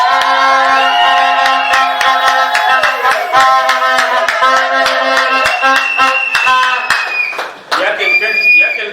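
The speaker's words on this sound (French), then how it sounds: "Applaudissez quand même." Rhythmic hand clapping from guests at a civil wedding ceremony, steady and close, mixed with music and voices throughout.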